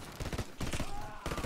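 Short bursts of shooter-game gunfire, three quick volleys separated by brief gaps, moderately loud and close.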